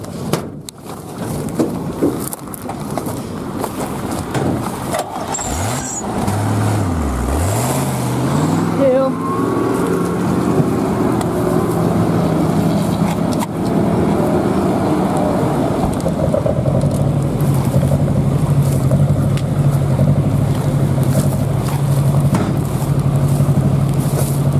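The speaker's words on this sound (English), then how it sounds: "We have our water truck here." A water truck's engine runs near a fire with a volunteer fire department on hand, a steady low rumble throughout under people talking and wind-like noise.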